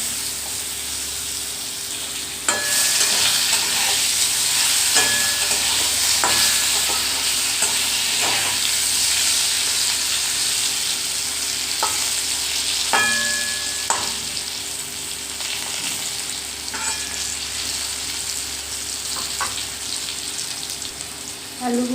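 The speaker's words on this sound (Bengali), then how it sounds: "আলুটাকে ভেজে নেব।" Potatoes seasoned with salt and turmeric fry in a pan with a steady sizzle and occasional stirring scrapes, close and continuous throughout.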